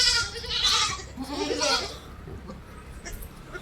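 A goat bleats in a few drawn-out calls at a livestock sale, with faint background noise between cries.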